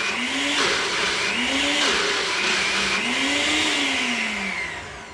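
A NutriBullet blender purees roasted garlic with a loud, steady whirring motor whose pitch rises and falls in waves as the cup is shaken, winding down near the end with no voices.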